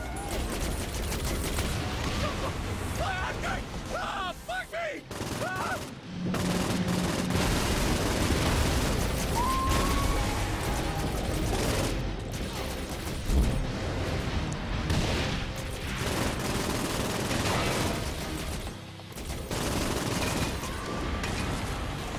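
SMG gunfire in Saints Row 4 rattles almost without pause beneath a dense bed of game music, explosions and other effects, staying loud and busy throughout with no clear gaps.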